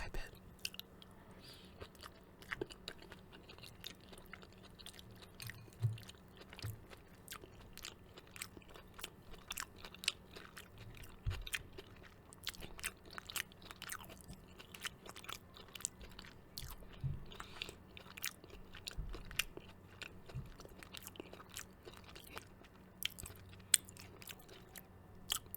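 Someone eats a homemade sweet potato curry with garam masala and coconut milk, close and quiet, with soft irregular bites and chewing clicks over a low steady hum.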